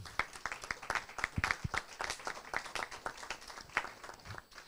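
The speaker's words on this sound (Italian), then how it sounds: "chiedo di fare un applauso" Sparse applause from a small audience at an academic presentation: scattered individual claps with a fairly quiet, uneven rhythm, heard alone without talk.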